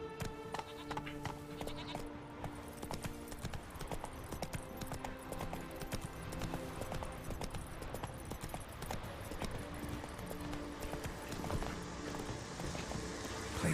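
In The Witcher 3 video game, a horse gallops with a steady, rapid clip-clop of hooves, loud and close, over game ambience and music.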